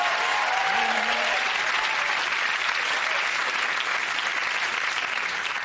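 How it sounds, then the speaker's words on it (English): Dense, steady applause from a comedy-show audience fills the whole stretch, loud and continuous with no talk over it. "OK, I'll give him a round of applause again"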